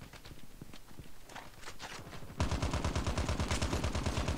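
Rapid automatic gunfire in Call of Duty Mobile, a new 100-round weapon, breaking out loud and close after a quieter stretch of scattered footsteps and distant shots, then hammering on in a steady fast burst to the end.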